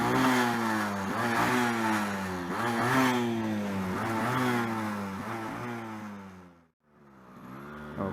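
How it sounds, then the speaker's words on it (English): Two-stroke motorcycle engine revving up and down repeatedly, a loud, buzzy, close drone that rises and falls in several waves, briefly cutting out before picking back up. "Let me rev her up a little for all the two-stroke fans"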